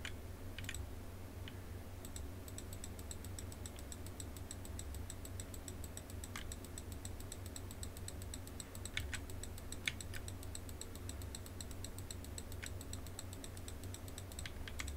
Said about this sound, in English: You're gonna hear a lot of clicking throughout this video